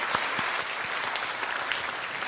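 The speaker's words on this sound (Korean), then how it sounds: "오늘 이 시간 그분들께 좀 박수로 마음을 전하면 좋겠습니다" Applause from a church congregation during a Sunday service, a steady wash of many hands clapping at moderate distance with no voices standing out.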